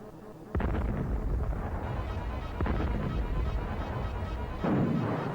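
Heavy tank-duel explosions from the video game Super Conflict, three loud booming blasts spaced roughly two seconds apart over a continuous rumbling battle din.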